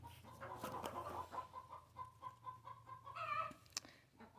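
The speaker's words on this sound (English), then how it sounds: "I hear the song of a chicken that just laid an egg" A hen sings her cackling egg song after laying, with repeated throaty clucks rising into a louder squawk near the end, faint and somewhat distant in a farmyard with other fowl.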